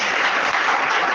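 A church congregation bursts into loud, dense clapping that fills the room for a brief moment, sustained and even with no speech over it.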